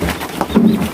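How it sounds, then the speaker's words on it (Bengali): Pet quail calling up close, with low cooing, soft throaty notes and a loud, busy background. "এই হচ্ছে আমার কোয়েল পাখি"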